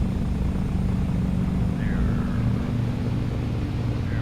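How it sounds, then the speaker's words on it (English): A piston twin airplane taxiing along a runway, its engines giving a steady, loud, unbroken drone with a low humming undertone throughout, no voices. "And let's go ahead and taxi on down to the other end of the runway there."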